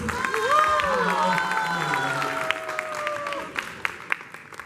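Applause from a crowd welcoming a speaker at a space-tech talk event, clapping mixed with overlapping voices and tonal background sounds, thinning into a few scattered claps at the end.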